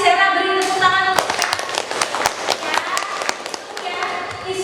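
Classroom applause for a student after a presentation, a burst of many hands clapping at once that builds quickly and stays dense and steady, close and loud, with scattered sharper claps standing out.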